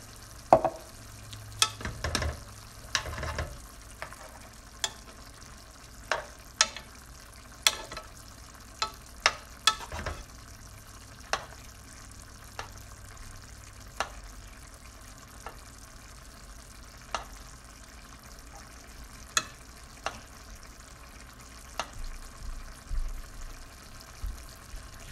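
Cauliflower simmers with a splash of added juice in a tajine pan, with a quiet bubbling sizzle under scattered sharp clicks and clatters of utensils, no talking.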